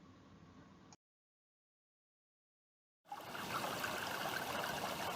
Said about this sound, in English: What a better place to end this story of the yellowfish that protect streams than with the voice of the beautiful Thompson River, an old friend of Joe's.